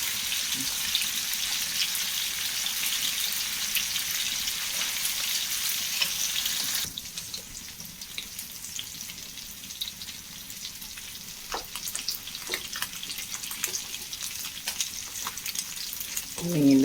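Small sardines frying in rice bran oil make a steady, loud sizzle that drops to a quieter crackle partway through, with occasional stirring clicks and pops near the pan.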